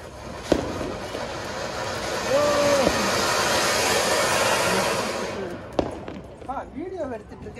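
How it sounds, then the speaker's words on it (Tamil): A big single Diwali fountain firework burns with a loud, steady hissing roar for about five seconds before cutting off, with sharp bangs of other crackers and faint voices around it. "இது வந்து பிக் ஃபவுண்டெயின் சிங்கிள், இவ்வளோ பெருசு மேலே வரும்னு நினைக்கிறேன்."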